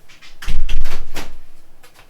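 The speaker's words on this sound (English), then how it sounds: "Go and close the door." A door is pushed shut indoors with a solid, close thump followed by a brief rattle as it settles.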